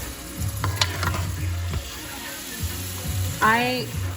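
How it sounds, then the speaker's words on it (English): Ingredients such as green peas stirred together in a pot for Haitian black rice, diri djon djon, a low scraping and sizzle under brief bits of nearby voice, with a short rising vocal sound at the end. "I mix, mix, mix together, meaning I stir it together."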